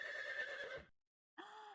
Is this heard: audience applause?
no